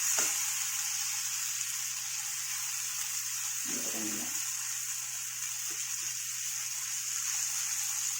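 Vegetables for a curry are sautéed in a pan, producing a soft, continuous sizzle over a low steady hum, with a brief louder stir partway through.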